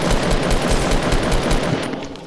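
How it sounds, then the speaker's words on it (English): Rapid video game gunfire, a dense automatic burst of loud close shots that rattles on continuously and tapers off at the end. "Oh, shots are fired."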